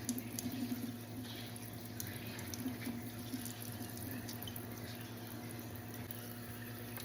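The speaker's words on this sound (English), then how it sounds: "So come with me as we start with washing all the vegetables." A kitchen tap runs steadily while vegetables are washed under it for potato soup. The stream is a continuous, close, even splash that lasts throughout, with no talking.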